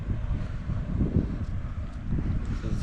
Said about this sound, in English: it's a little cold up here. And windy and wet.